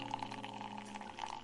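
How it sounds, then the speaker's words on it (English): Blended passion fruit liquid being poured into a juicer, a quiet, brief, continuous liquid stream with a faint machine hum beneath. "you want to pour the liquid into your juicer."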